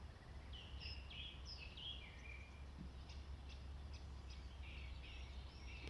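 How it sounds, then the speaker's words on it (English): Several birds chirp and trill in short, bright phrases through a wintry morning woodland, fairly distant and soft over a steady low background hum, with no one talking. "Birds whittering away."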